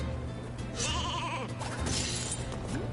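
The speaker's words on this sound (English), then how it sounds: "Sheep." A sheep in the video game Skylanders Superchargers lets out a wavering bleat, then a second, fainter one, over a busy background of game sounds.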